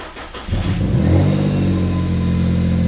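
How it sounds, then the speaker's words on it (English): An Infiniti G35X engine fires up and revs, its deep exhaust rumble swelling loud and close, then settling into a steady throaty idle. "Let's see how this exhaust sounds."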